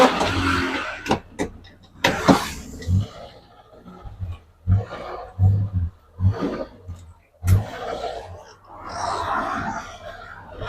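A 2002 Changan Jiangling car's engine runs with a low rumble and surges of revving, along with scattered clunks and knocks, heard up close across the whole stretch.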